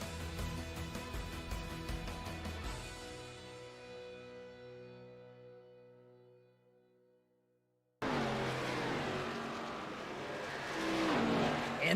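iRacing race cars roar through turn one, engines revving loudly then fading away to silence, followed by a sudden loud rush of another pack of cars accelerating past.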